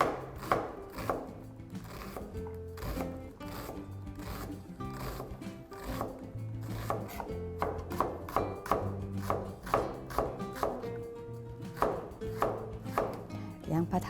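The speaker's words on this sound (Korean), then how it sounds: "먼저 양파는 작은 크기로 다져주세요" A knife finely minces onion on a cutting board in a quick, regular series of sharp close taps, steady and rhythmic throughout with soft background music underneath.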